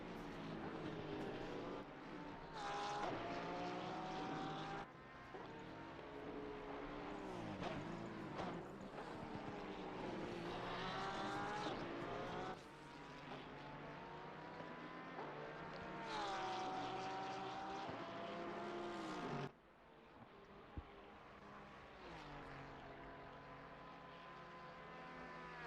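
Porsche race car in a sim racing game at Mount Panorama, engine revving loud and close as it races downhill, pitch rising and dropping through gear shifts and braking for turns, with no one talking.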